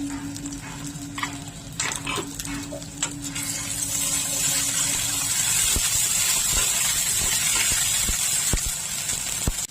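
Ginger-garlic paste hits browned onions in a pan while cooking brain curry, a steady frying hiss that swells and stays loud after the first few seconds, with a few light clinks early on.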